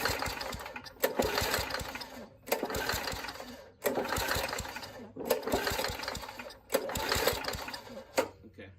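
A 3.5hp Tecumseh engine on an old Murray push mower sputters and runs in uneven bursts, surging and dropping several times with brief near-stalls between, close and fairly loud.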